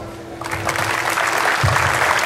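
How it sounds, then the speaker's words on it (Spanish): A crowd applauds the doubles runners-up at the 2013 Manta Open tennis tournament. The clapping swells in after a brief pause and settles into a full, even ovation, with a faint voice underneath. "Un fuerte aplauso entonces para nuestros vicecampeones de dobles."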